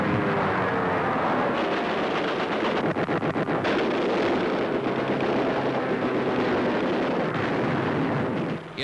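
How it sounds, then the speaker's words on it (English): Dense wartime battle din from 1944 Pacific-theater newsreel footage, with WWII bombers and fighter planes roaring through anti-aircraft fire, loud and continuous with rumbling bursts and no talking. "As the bombers weave through anti-aircraft fire, Thunderbolts, Lightnings, Mustangs go after the enemy with all guns blazing."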